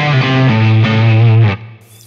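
Low-gain electric guitar run through an Xotic Soul Driven overdrive pedal, a few sustained chords ringing with mild grit, played loud and close with no voices, then cut off abruptly into near silence.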